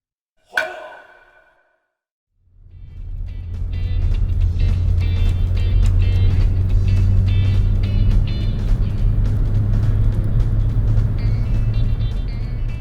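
After a short knock and a moment of quiet, a car engine starts up and drives on steadily, a loud continuous hum with faint clicks on top.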